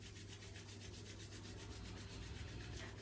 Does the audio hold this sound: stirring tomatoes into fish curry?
no